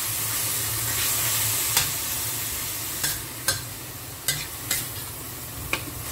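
Food fries until half cooked in a steady, close sizzle, with several sharp scraping stirs from a utensil against the pan standing out now and then, and no voices.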